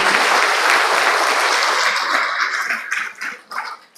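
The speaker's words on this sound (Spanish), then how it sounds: "fuertes aplausos para ustedes, para el Padre." Loud applause from an audience at a Vincentian studies week event, dense clapping that keeps up steadily before thinning into a few scattered final claps, with no voices over it.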